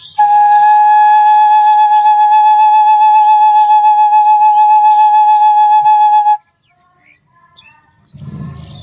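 A flute holds one clear, steady note on the first hole for about six seconds, then cuts off, leaving faint scattered sounds.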